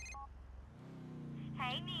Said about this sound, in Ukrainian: І Мелорі телефонує.